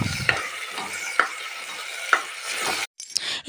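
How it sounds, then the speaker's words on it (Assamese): Rice and dal frying with vegetables in a pan for khichdi, a steady soft sizzle broken by a few sharp scrapes of a stirring spoon, close and alone. "এতিয়া ভাজি ল'ম।"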